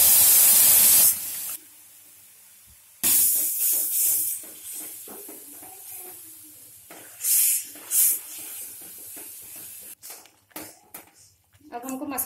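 Tomato puree dropped onto red chilli, coriander and turmeric powders in a hot pan for a cucumber and grape sabzi, giving loud hissing sizzle bursts that come and go, with someone talking between them.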